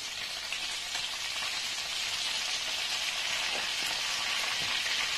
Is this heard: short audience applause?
no